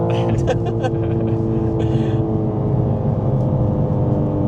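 A BMW G82 M4 idles with a steady, droning exhaust rumble close by, while someone talks briefly over it at the start.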